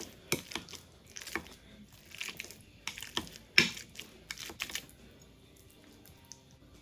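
Cooked sweet potato is mashed in a bowl with a potato masher, giving a string of irregular soft squelching thumps and clicks, close and fairly quiet, with short pauses between strokes.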